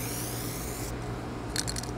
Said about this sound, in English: And then I'll do another quick spray right there.